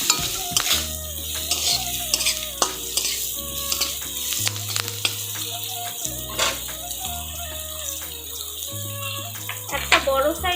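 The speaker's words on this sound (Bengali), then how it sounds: "এখন ভালো করে মিশিয়ে নিব।" Cumin powder is stirred into a chapila fish curry in a pan, with repeated close scraping strokes over a constant sizzle, while background music plays underneath.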